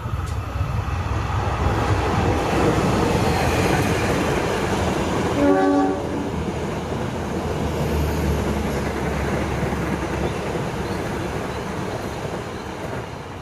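A Joglosemarkerto passenger train rumbles steadily past below, loud and continuous, with a short horn blast partway through.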